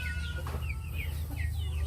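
Several Rhode Island Red pullets cluck and chirp softly over a low, steady background hum, with short scattered calls and no talking.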